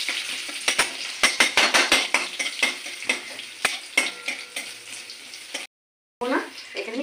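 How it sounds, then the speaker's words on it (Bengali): Garlic hits hot oil for tempering and sizzles steadily, with sharp clinks and scraping of a spoon stirring in the pan, a brief silent gap, then the sizzle resumes. "আমার তেলটা ফোড়নটা গরম হয়ে গেছে, শুধু রসুন দেবো, এরকম রসুন ফোড়ন দেবো"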